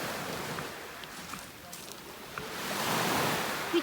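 Sea waves wash onto the long beach at Palamutbükü, a steady soft surf hiss that swells louder toward the end, mixed with light wind noise on the microphone.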